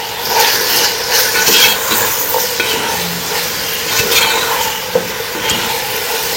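Raisins, black currants, black pepper and salt are stirred into a chicken apricot dish in a hot pan, a loud, steady sizzle with scraping stirs and occasional spoon knocks throughout, without speech.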